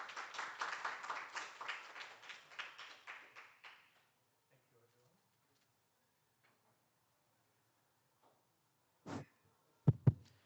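An audience applauds to welcome panelists at the KDI-World Bank Global Forum on Development Cooperation: brisk, even clapping that fades away over about four seconds, then near silence with a few isolated knocks.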